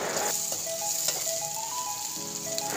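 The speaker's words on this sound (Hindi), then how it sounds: "थोड़ा सा इसे भी फ्राई करेंगे, ज़्यादा जलाना नहीं" Onion with ginger garlic paste frying in a pan for mutton pulao, a steady, fairly loud sizzle with light stirring scrapes throughout and no talking.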